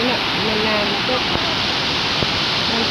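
Waterfall spilling from a dam at a water basin in Laos, a loud, steady broadband rush of falling water filling the whole stretch, with a voice talking faintly over it.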